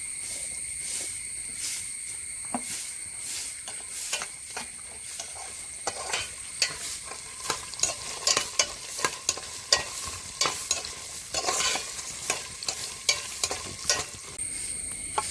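Grated coconut frying in a pan for a Kerala beef dish, with a spoon stirring and scraping in quick irregular strokes that grow busier toward the end, over a constant high hiss and sizzle, close and without voices.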